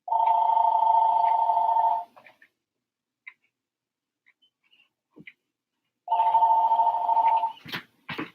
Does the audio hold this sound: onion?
no